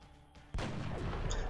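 A single loud gunshot in the turn-based strategy game XCOM: Enemy Unknown, a sudden sharp blast that rolls into a sustained booming decay, with no talk over it.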